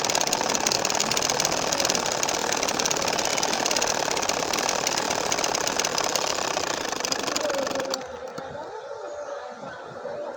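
A sewing machine stitches a baby nakshi kantha quilt in a close, steady, rapid mechanical chatter that runs for about eight seconds, then stops, leaving quieter handling sounds.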